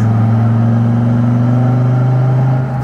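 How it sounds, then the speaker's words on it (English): Dodge Viper GTS with a Borla exhaust accelerating hard, a loud, steady, close engine roar with strong low harmonics that rises slightly in pitch throughout, with no voices over it. "Sounds fantastic too with this exhaust."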